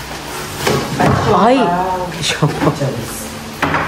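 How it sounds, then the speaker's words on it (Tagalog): Marble plates handled at close range, giving a few sharp clinks and knocks among lively, excited talk and laughter that dominate throughout. "Pang mayaman yung tunog ng marble."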